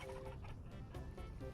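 Chickens clucking in the Vintage Story video game, soft repeated clucks and short squawks layered over constant background noise, fairly quiet.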